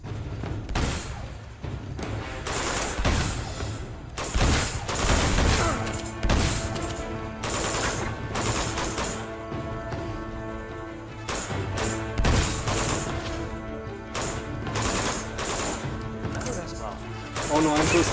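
Gunfire in the video game Uncharted 2, with repeated sharp shots and crashes spread through a dense, busy action mix of effects and music, talk running over it.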